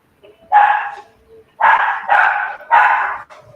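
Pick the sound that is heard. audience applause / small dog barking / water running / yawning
small dog barking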